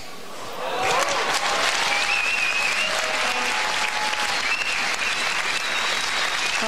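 Steady, loud applause from a large crowd at a badminton men's doubles final, sustained clapping filling the arena, with a few faint calls and whistles rising above it.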